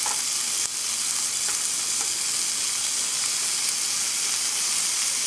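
Marinated chicken hits a hot pan and fries with a loud, steady sizzle and hiss of steam, with occasional stirring clicks, close and continuous with no talk.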